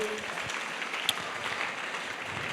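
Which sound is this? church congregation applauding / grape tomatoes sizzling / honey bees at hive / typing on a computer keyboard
church congregation applauding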